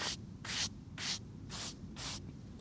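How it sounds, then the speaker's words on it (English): A stiff brush scrubs grime off a roughly 96-year-old gravestone in five rhythmic, evenly spaced bristly strokes, close and moderately loud with no voices. "just gonna scrub all the rubbish off"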